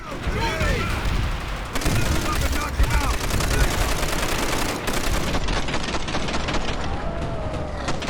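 Browning M1919 machine gun fire from the shooter Call of Duty: World at War, loud and dense, rattling without pause for about eight seconds with heavy continuous bursts.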